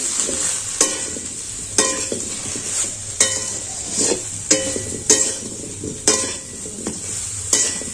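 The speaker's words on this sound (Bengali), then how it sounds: "পরিমাণ মতো লবণ দিয়ে দিচ্ছি দিয়ে দিচ্ছি লঙ্কা গুঁড়ো এটা আবার ভালো করে মেলে নিচ্ছি" A spoon stirs salt and chilli powder through raw mango pickle in a pan, scraping in a steady rhythm with a sharp clink about once a second, close and fairly loud.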